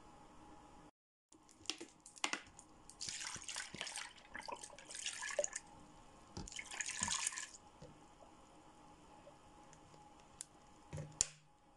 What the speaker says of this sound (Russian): а сейчас я его заливаю молочком